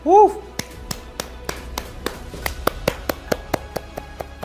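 One person claps alone, roughly a dozen crisp, evenly spaced claps close by, after a brief vocal sound at the start.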